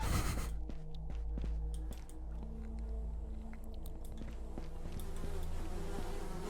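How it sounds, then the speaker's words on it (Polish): Flies buzzing inside a bunker in the survival game Will To Live Online, several thin droning whines weaving close by over a low hum, with faint clicks and rustles throughout. "muchy mnie przestraszyły, nie? Coś tu zdechło pewnie."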